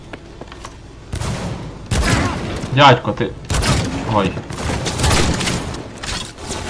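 Gunfire bursts from a weapon in the video game Cyberpunk 2077, several sharp booming shots in quick succession, loud and close, mixed with a man's speech.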